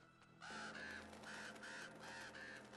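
A crow caws repeatedly in the Uncharted 2: Among Thieves video game, a run of about six harsh calls in steady rhythm, fairly close and loud, with no talk.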